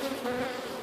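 Honey bees buzz steadily during a backyard hive inspection, a close, continuous drone with a clear hum throughout the short moment.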